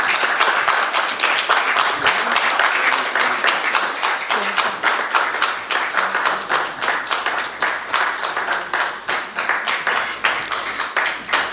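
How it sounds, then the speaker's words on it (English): A conference hall audience at a business AI conclave applauds a panel of industry leaders: sustained, rhythmic clapping from many people, steady and moderately loud for the whole stretch. "Let's give them a huge round of applause."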